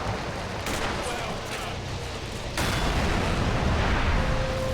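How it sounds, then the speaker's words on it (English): Video game artillery fire rumbles through a battle, with dense, continuous booms and gunfire that grow noticeably louder partway through. "we've got some artillery still in action"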